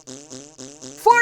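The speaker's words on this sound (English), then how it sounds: "Fart! To your heart!" A cartoon fart sound effect from the video game Pistol Cat plays as four buzzy, evenly spaced pulses followed by a louder, higher-pitched final blast, all clear with no talking.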